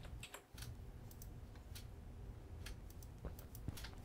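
A computer keyboard and mouse are used while playing modded Minecraft, giving quiet, close, irregular clicks and key taps that are scattered across a faint room hush with no speech.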